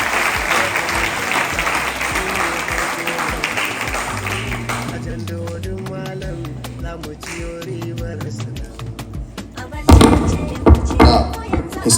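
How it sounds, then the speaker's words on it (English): An audience at a formal event for a state governor's visit applauds in steady clapping for several seconds, then music-like tones follow, with a louder burst of clapping and thumps near the end. "Please a round of applause."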